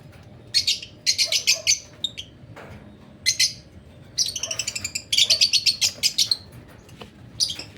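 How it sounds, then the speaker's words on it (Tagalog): Pet birds chirping close by in quick bright bursts of rapid repeated tweets, several calls overlapping in clusters over a low background hum. "Ito nga pala siya yung mga ibon. Ating mga alagang ibon."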